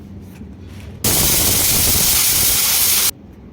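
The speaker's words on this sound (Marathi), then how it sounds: "आपल्याला या कुकरच्या तीन शिट्ट्या काढून घ्यायच्या आहेत" A loud, sudden burst of hissing steam from a pressure cooker whistle on a gas stove, close by, lasting about two seconds and then cutting off abruptly.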